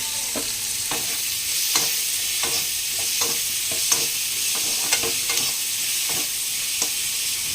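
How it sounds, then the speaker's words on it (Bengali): Loud, continuous hissing sizzle of onions frying in oil, punctuated by regular scraping taps of a spatula stirring the pan up close. "এটা ভেজে নিচ্ছি"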